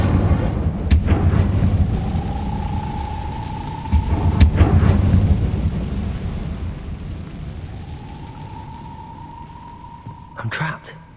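A cast Incendio fire spell in Hogwarts Legacy bursts out as sharp crackling blasts with a rushing whoosh, repeated a few times over a steady low rumble, with a tonal hum lingering between hits and a final burst near the end.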